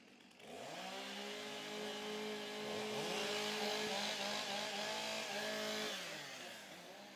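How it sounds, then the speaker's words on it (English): Several STIHL chainsaws idle and rev loudly together during warm-up before a women's timbersports heat, engines climbing and holding a steady high whine for several seconds before easing off. "Warm up your saws."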